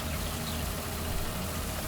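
A tractor engine idles in Farming Simulator 19, a steady low droning rumble that runs unbroken and fairly loud with no voices.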